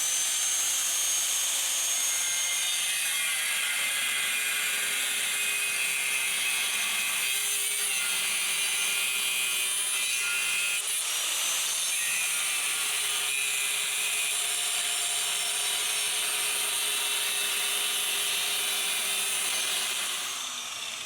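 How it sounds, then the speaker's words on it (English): An angle grinder cuts steel plate along a chalk outline, a steady high-pitched whine and hiss running continuously at moderate distance with a slight pitch dip midway. "I've got to make sure I cut on the inside of that, or I'm going to have a lot of grinding to be able to fit it in."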